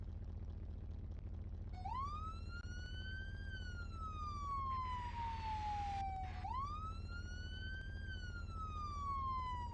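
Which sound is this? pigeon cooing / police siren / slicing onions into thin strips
police siren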